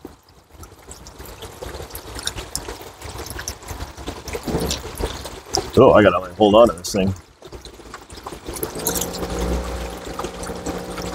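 Water gushes and splashes as it is pumped out of a remote-controlled submarine, a rushing wash that swells midway, with someone talking briefly over it.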